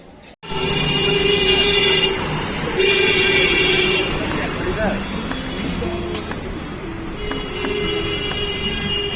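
A Kolkata Metro train roars into the station with a loud, steady rumble and whining tones, while voices murmur nearby on the platform.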